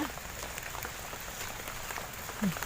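Rain falling steadily on surfaces outdoors, a soft, even hiss with faint scattered drops, continuous and fairly quiet with no talk.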